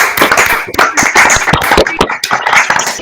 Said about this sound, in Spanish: vamos a darte un aplauso por tu esfuerzo y por tu gran conferencia